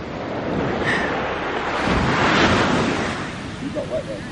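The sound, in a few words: waves crashing at Silver Sands Bay, Fife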